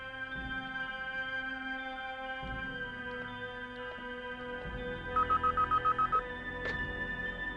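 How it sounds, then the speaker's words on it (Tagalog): A cellphone rings with a melodic tone that repeats in a rapid burst of pulses, clear and close over a quiet indoor scene with no talking. "Cellphone!"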